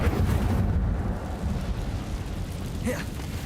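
An Incendio fire spell in a wizard video game bursts with a loud roaring whoosh that swells and fades over a few seconds. A voice speaks briefly near the end.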